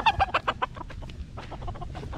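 A young rooster (stag) of a fighting-cock breed clucks in a quick burst of sharp, close calls at the start, then softer scattered clucks over a low background murmur on a farm.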